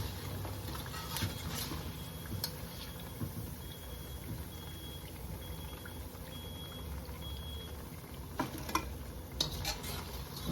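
Akara bean fritters frying in hot oil, a steady low crackle and sizzle with occasional stirring clinks, continuous and close with no voices.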